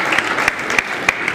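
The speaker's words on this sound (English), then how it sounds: "A better round of applause for Madam President, please." Applause from an audience at a political gathering for Madam President, a short burst of distinct sharp claps at close range, fairly sparse and uneven.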